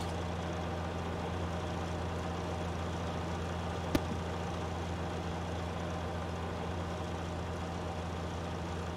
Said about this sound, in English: That tractor does sound really cool though, if you like straight pipes.